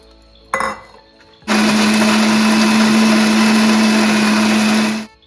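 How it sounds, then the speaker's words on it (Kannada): A brief clink, then a mixer grinder whirs loudly at a steady high pitch for several seconds, grinding soaked rice and tamarind, before cutting off. "ಎಲ್ಲ ಮಿಕ್ಸಿ ಜಾರ್ಗೆ ಹಾಕಿ ರುಬ್ಕೊಂಬರೋಣ"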